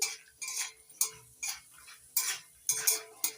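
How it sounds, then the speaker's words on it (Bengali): Dry fruits being fried in a pan: a steady series of light metallic scrapes and clinks, close and fairly crisp, repeating in an even rhythm with no voices. "সমস্ত ড্রাই ফ্রুটগুলো একটু ভালো করে ভেজে নিচ্ছি।"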